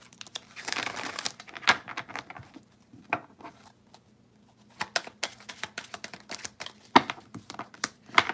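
Tarot cards shuffled by hand in quick bursts of soft snapping and crinkling taps, irregular and close, with a short quiet gap midway before the rapid clicks resume.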